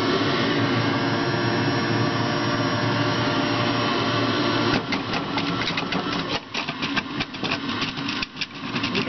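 A Breville JE98XL juicer grinds homegrown apples, a loud continuous motor whir with rough grinding, turning choppier and rattling in the second half as the fruit bounces on the grinder teeth.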